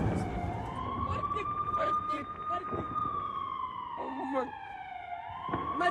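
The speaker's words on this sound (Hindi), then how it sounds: "सायरन।" A wailing emergency vehicle siren rises and falls steadily in a Khartoum street during fighting in Sudan, heard at moderate distance with faint background voices and street noise beneath it.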